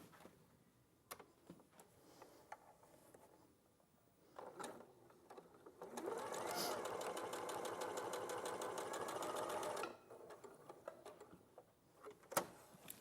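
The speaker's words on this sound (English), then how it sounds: "And then I'll sew those two together." A sewing machine stitching fabric pieces together runs in one steady, fast-rhythmed burst of about four seconds, preceded and followed by quieter handling clicks and thumps.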